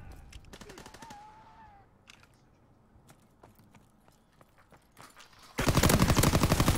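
Gunfire erupts in a 4v4 search-and-destroy video game match: a rapid burst of shots early on, scattered single cracks through a quieter middle stretch, then loud, dense sustained firing at the end.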